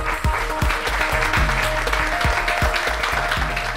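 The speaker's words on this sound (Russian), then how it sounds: "Ваши аплодисменты." Studio audience applauding on a television talk show as a family is welcomed, steady close clapping over a low musical backing throughout.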